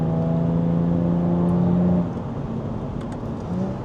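A Jaguar F-Type S engine drones steadily while driving, a loud close hum with a rising tone that drops off midway and then settles into a lower rumble, with no talk.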